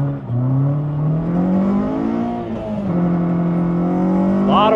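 A 2010 Honda CR-Z swapped with a K24A2 engine accelerates with wheel spin, its engine note rising steadily in pitch, loud and close, with no talking.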